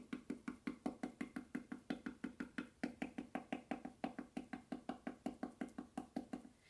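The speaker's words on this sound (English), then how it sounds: "the good old-fashioned pounding stenciling is the best thing to do sometimes on the sides of drawers" A stencil brush pounds on the side of a drawer in a fast, even run of soft knocks, about four per second, close and quiet, with no talking.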